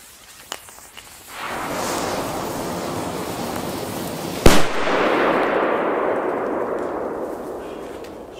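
A Lupo firecracker blasts with a single sharp, loud bang midway, preceded by fainter pops and followed by a broad hissing rumble of smoke and debris that slowly fades; no talk.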